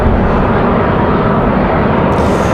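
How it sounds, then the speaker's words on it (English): Loud, steady broadband jet roar of a United Boeing 737 Max 9 airliner on a windy day at Raleigh-Durham International Airport, sustained and close throughout. "Another Max 9 ready to head out of here"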